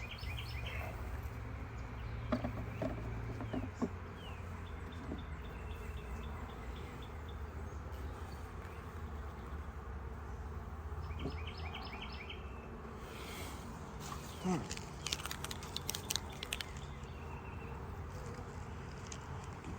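Honey bees hum in a steady, continuous low drone during a first hive inspection and queen marking, with faint bird chirps in the background.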